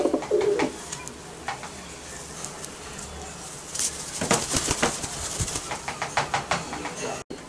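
A pigeon coos softly up close while being petted, low throaty rolling calls in short bursts, with faint rustling and some background voices.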